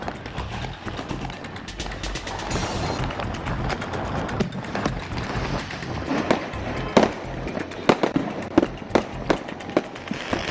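Diwali firecrackers bursting in Tamil Nadu, a dense crackling barrage with sharp, loud individual bangs growing more frequent toward the end, no voices.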